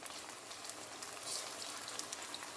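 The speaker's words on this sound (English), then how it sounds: "I'm going to stir fry this for about 3 minutes" Sausages stir-frying in a pan, a soft steady sizzle and crackle throughout, faint and continuous with no voices.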